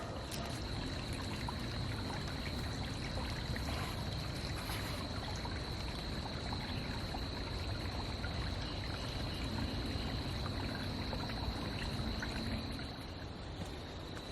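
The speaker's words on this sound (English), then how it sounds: "the creek's going down through here" Creek water flowing through a park, a steady close trickle and burble that runs unbroken throughout with a faint high tone above it and no voices.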